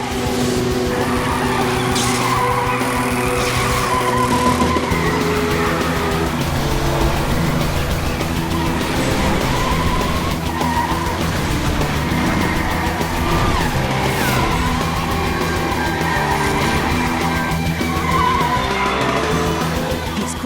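Continuous car engine roar with tires skidding and squealing throughout, loud and steady, a car drifting around corners.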